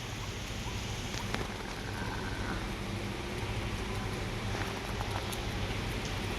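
Heavy rain pouring down in Bangalore, a dense, steady hiss and patter of drops on surfaces that carries on without letup, close and loud with no voices.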